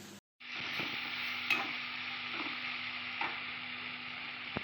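Spices for chitranna sizzle steadily in hot oil in a pan as amchur powder is added, with a few soft scraping stirs over a continuous close frying hiss after a brief opening gap.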